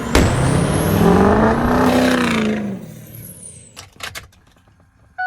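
A truck with a 150-mile balanced engine starts and revs up loudly, holds a rising roar, then drops away, followed by a few short clunks and quieter rattles near the end.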